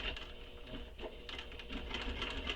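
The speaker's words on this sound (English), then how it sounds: "So I'm going to back stitch over it." A sewing machine back stitches over a connector seam on a handbag, giving a close, steady, rapid needle patter with slight variations in pace and no voices.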